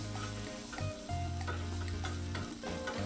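Jumbo hot dogs fry on a Blackstone 22-inch griddle with a steady sizzle, while a spatula scrapes and taps against the flat top a few times, close by with no talking.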